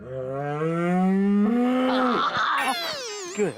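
A buffalo lets out one long, loud, close moo that starts low and steady, then rises and breaks into a rougher, strained bellow toward the end.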